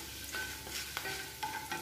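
Mustard seeds and turmeric powder fry in a pan while being stirred, with a steady sizzle and several crisp spoon scrapes and clinks spaced through the short stretch, close and fairly quiet, no talking.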